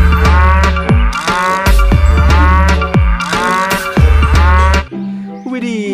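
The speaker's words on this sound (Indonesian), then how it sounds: "ini adalah sapi" A toy cow gives a series of loud, close, drawn-out electronic moos, repeating about five times in steady succession before a brief different tone at the end, with no talking.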